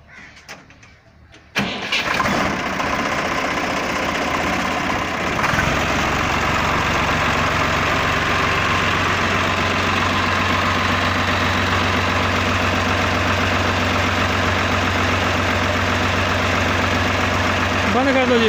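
A Swaraj 744 FE tractor engine cranks briefly and fires, then settles into a loud, steady diesel idle that runs close by and uninterrupted for the rest of the clip.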